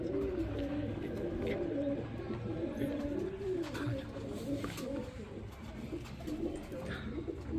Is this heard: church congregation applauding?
no